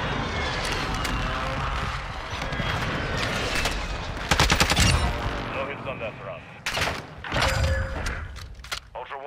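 Dense gunfire rattles through a match of the video game DMZ, with sustained automatic bursts, sharp single cracks and a heavy flurry near the middle, loud and close, while voices talk over the shooting.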